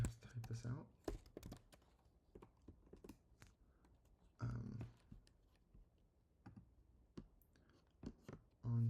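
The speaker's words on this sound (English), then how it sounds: "Do I really have to type this out?" Quiet, fast clicking of keys as code is typed on a computer keyboard, irregular taps in short bursts alongside someone talking.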